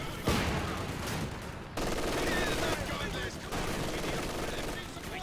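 Rapid machine gun fire in the World War II strategy game Company of Heroes 2, dense bursts of gunfire with distant shots layered together, continuing under a commentator's speech.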